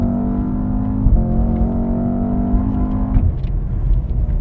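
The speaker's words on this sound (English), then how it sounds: "We are now in the updated Blackwing with Jordan Taylor, so legit race car driver, going for a hot lap." Cadillac CT5-V Blackwing V8 sedan on a racetrack hot lap, engine droning steadily with a strong tonal note that shifts pitch around gear changes, loud and close throughout, with no talk.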